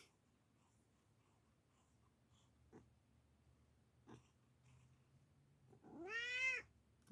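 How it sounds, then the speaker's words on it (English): A pet cat gives one loud, drawn-out meow near the end, with a few faint soft noises before it in an otherwise quiet room. "here's my cat being codependent"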